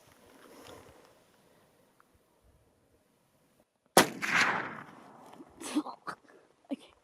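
A single loud muzzleloader rifle shot at a Coues deer cracks out after a quiet stretch, followed by a rolling echo and a few sharp knocks, with faint wind and hunting sounds before it.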